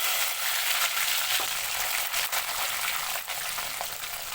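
About twenty peeled garlic cloves fry in hot oil with cumin for a fish kuzhambu, giving a steady, dense, close sizzle that holds throughout with small crackles.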